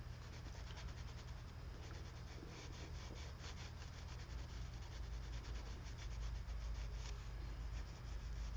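A pencil shades on paper to darken the edge of a drawn wing, giving a continuous scratchy rubbing of graphite strokes, close and steady throughout with no voices.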